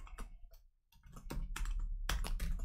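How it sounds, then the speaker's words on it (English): Rapid, close typing on a computer keyboard late at night in British Columbia, a dense run of crisp key clicks with a brief pause near the start, with no talking. "Late night typing here in British Columbia"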